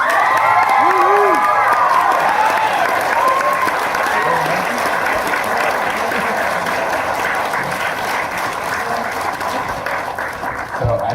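A large ToonFest crowd applauds and cheers loudly and continuously, a dense wash of clapping with whoops and shouts rising over it, slowly easing toward the end.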